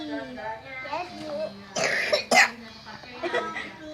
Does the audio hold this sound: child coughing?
yes